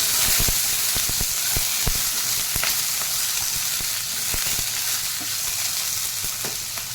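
Potato pieces fry in a pan of hot oil, giving a continuous dense sizzle with bright crackling and sharp spattering pops, plus occasional stirring, steady and close throughout with no voices.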